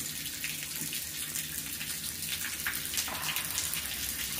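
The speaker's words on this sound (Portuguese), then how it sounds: "a torneira tá ligada" Water running from a tap: a close, continuous splashing rush that stays steady and fairly loud throughout, with no talk over it.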